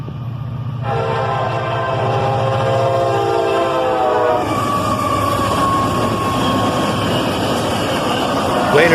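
A speeding northbound CSX freight train led by an SD43 locomotive with a YN2 AC44CW sounds its horn in long harmonic blasts, then rumbles past loud and close with steady wheel and engine noise.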